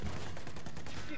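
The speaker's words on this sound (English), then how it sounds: "we're getting shot by something" Rapid gunfire in the video game Battlefield 5, a dense burst of crackling shots that fills the whole moment, loud and continuous with no clear gaps between reports.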